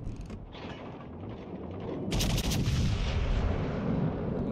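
Battleship guns firing in World of Warships Legends, a rumbling mechanical buildup broken by a loud, sharp salvo about halfway through, followed by a sustained heavy roar.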